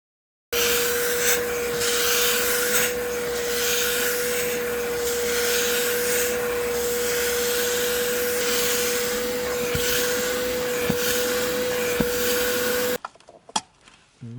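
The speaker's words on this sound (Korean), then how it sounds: "카펫 청소기로 모든 것이 해결될 줄만 알았다." A carpet vacuum cleaner hums loudly and steadily with a constant tone and scrubbing rub while cleaning crumb-strewn carpet in a Land Rover Discovery 3 (LR3), cutting off abruptly near the end.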